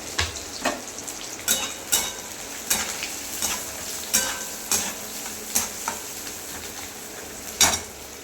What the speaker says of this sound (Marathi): कांदा टाकून घेते, कांदा चांगला लाल होईल त्याचा